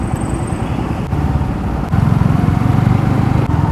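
A motorcycle cruises the Khambhalia–Jamnagar highway on a Holi ride from Jamnagar to Dwarka, its engine droning steadily with wind roar, then growing louder and fuller after the clutch engages partway through.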